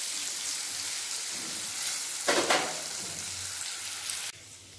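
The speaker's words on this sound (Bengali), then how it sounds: "গ্যাস বাড়িয়ে রেখে ভালোভাবে করলাগুলো ভেজে নেব।" Bitter gourd pieces frying in a pan over high heat, seasoned with salt and turmeric, give a steady, close sizzle with a brief louder crackle midway, then the sound drops off abruptly near the end.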